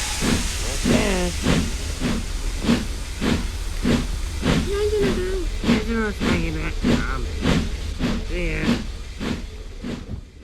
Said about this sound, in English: As Ripley Thomas leaves with another train bound for Virginia